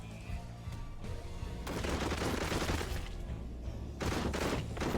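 Steady, dense gunfire in the zombie shooter video game Whiskey & Zombies, with rapid overlapping shots rolling on for several seconds and a slight surge partway through, loud and with no talking.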